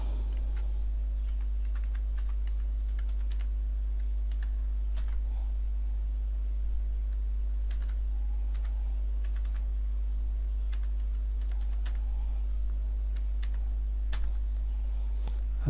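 Rapid clicking of computer keyboard keys as a password is typed, a steady, close patter of light taps over a constant low electrical hum, with no speech.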